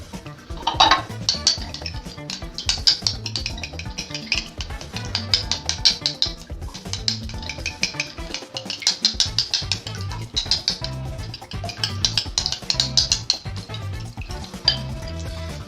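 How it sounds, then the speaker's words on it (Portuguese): Eggs lightly beaten by hand with a utensil against a bowl for free-range Label Rouge eggs, a steady run of quick, close clinking taps at a fairly even rhythm with brief pauses, no voices. "E vou quebrar levemente os ovos. Não preciso de ar, então não vou bater muito forte."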